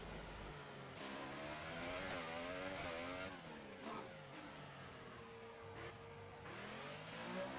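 The Mercedes AMG R06 Formula One car in the F1 2018 racing game at Monaco screams at high revs. Its engine note rises and falls continuously through gear changes and throttle lifts, alone with no talk.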